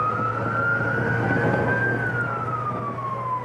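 An ambulance siren on a highway sweeps in a slow, steady wail, loud and close, over continuous road and engine rumble.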